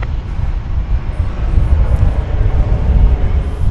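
An American Airlines jet takes off at DFW airport, a steady, broad jet roar with low rumble that swells slightly while it goes, heard from a distance.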